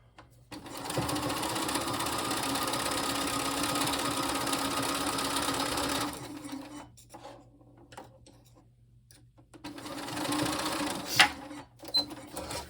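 A sewing machine stitches quilt pieces in a steady, close run of about five seconds, pauses, then whirs again briefly.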